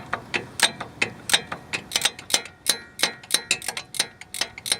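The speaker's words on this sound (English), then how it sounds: "I put the ratchet down here, so I have about that much swing, and I'm going to put my Torx bit right in here." A hand ratchet fitted with a Torx bit clicks rapidly as it turns the fastener on a car's sway bar end link, about twenty crisp, close metallic clicks in uneven bursts, with no talking.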